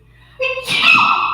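A single close, loud sneeze with a brief inhale leading into it.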